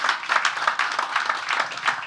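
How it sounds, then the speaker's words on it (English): An audience at a stock exchange listing ceremony for AVA Capital PLC on the Nigerian Exchange claps steadily, a dense wash of many hands applauding without pause. "Another round of applause for the company."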